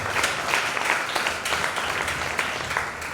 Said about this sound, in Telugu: చప్పట్లు కొట్టి దేవుడు.